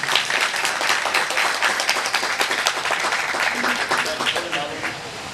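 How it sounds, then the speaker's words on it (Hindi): A live audience breaks into sustained, dense applause for two guests at a White Cane Safety Day celebration, clapping steadily throughout before easing slightly at the end. "अब हाथों की तश्तरी पर ढेर सारी तालियां दोनों"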